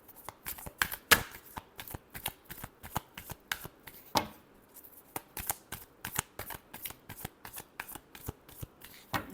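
Tarot cards are shuffled by hand up close, a run of crisp riffling bursts and soft slaps repeating in quick irregular rhythm, with no talking.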